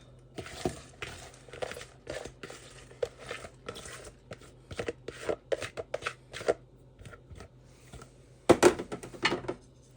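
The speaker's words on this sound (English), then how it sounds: "now I'm going to add 5 ounces of spinach that I've just coarsely chopped" Five ounces of coarsely chopped spinach drop into a pot of chicken gnocchi soup, with a run of crisp rustling, crinkling and light knocks in irregular bursts, plus a louder clatter near the end.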